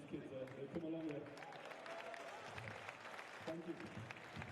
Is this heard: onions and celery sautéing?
no